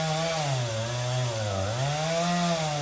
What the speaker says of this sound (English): Sharpening the blade.